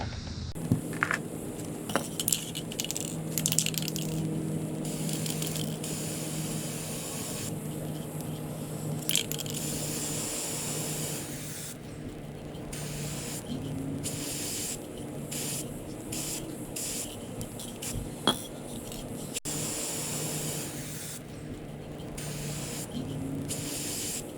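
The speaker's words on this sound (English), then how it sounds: "everything reading online tells me to oil this quite generously" Oil sprayed generously onto a Kawasaki KLX 230 foam air filter in repeated close hissing bursts of varying length separated by short pauses, with occasional small clicks and handling sounds, no voices.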